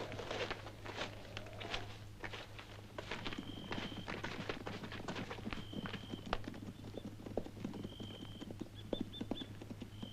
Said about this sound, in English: Someone's coming. I hear horses.